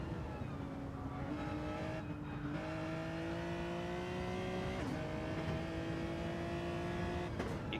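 Race cars lapping the Monza circuit in a racing video game, engines droning steadily with rising pitch through gear changes and occasional shifts, loud and continuous with no talking.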